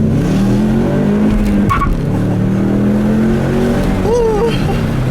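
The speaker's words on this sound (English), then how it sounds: "I'll do a nice little acceleration here to end the video like I always do." A Ford Mustang accelerates hard, engine rising loud and close from inside the car with rising pitch sweeps, brief tire chirps near the end, and a voice briefly heard over it.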